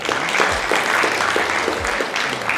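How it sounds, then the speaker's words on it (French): Studio audience applause during a French radio interview, a steady dense patter of clapping filling the short stretch, fairly loud and even, with no talk over it. "Bravo, ça s'applaudit."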